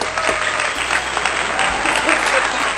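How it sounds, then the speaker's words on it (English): An audience at a live talk show gives a round of applause, a dense, loud clapping that holds steady across the clip with faint crowd voices mixed in. "Give a round of applause."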